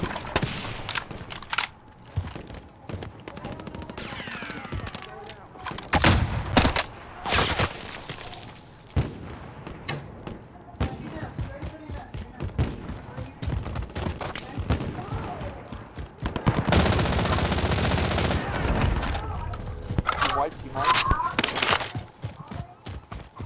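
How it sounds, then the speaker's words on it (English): Gunfire rattles in a Call of Duty-style shooter, with sharp single shots and several loud automatic bursts scattered through the match, amid quieter background noise and voices chatting. "Taking fire over here."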